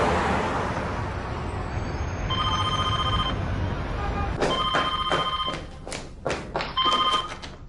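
Telephone ringing with repeated electronic trills in bursts, fairly close, over a busy indoor background with thumps and other noise.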